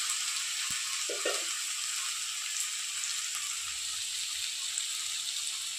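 Turmeric dropped into a spice paste frying in a pan for soybean curry: a continuous bright sizzle and crackle, with a couple of soft knocks early on, steady and close, no talking.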